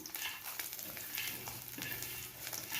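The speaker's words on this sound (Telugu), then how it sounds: "చూడండి, వెల్లుల్లి పోపులు వేసేసుకుంటున్నాను" Garlic dropped into hot oil for a tempering crackles and sizzles steadily throughout, with a dense, continuous frying hiss and small pops close to the pan.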